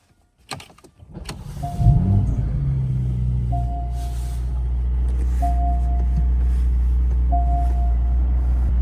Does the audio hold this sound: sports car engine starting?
yes